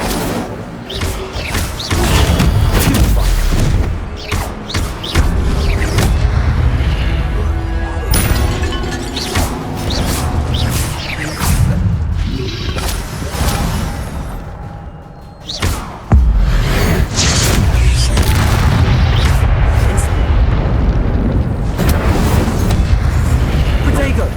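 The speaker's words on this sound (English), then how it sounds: "Incendio!" Incendio fire spell blasts in the video game Hogwarts Legacy, loud booming bursts and crashing impacts one after another over a dense, sustained din of combat effects, with a brief lull near the middle before the blasts resume.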